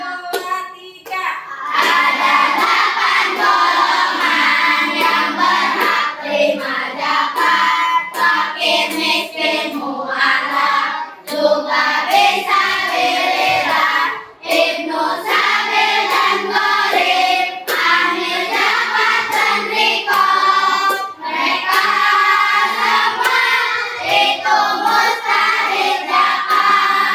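A primary school class in Gunungsari claps out a rhythmic chant, children's voices chanting loudly in unison over sharp, regular hand claps that continue throughout.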